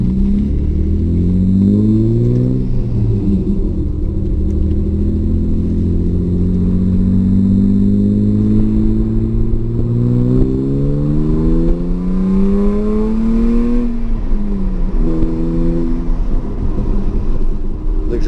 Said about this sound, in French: je vais arrêter de parler vite fait et je vais laisser parler le moteur